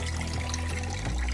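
A small mountain stream trickles and pours steadily over rocks on a dried-up hiking trail, close and continuous with a low gurgling undertone.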